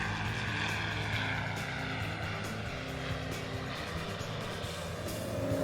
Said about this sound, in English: Steve with his 150 horsepower Viking engine. As you can see, the cruiser takes a little bit more time on the ground and is accelerating